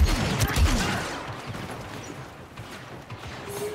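Gunfire in the 2017 video game Star Wars Battlefront II: a dense burst of shots at the start, then a continuous busy wash of weapons fire that thins slightly toward the end, with no talk.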